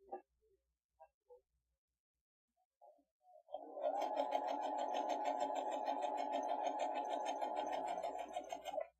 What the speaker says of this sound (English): So I'm going to go ahead and sew that.